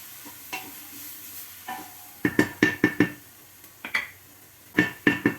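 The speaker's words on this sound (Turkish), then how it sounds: "sebzelerim kavruldu" Vegetables sauté in a pan for Turkish meat and dried bean stew, with a soft background sizzle broken by a run of sharp spoon scrapes and knocks against the pan in quick clusters.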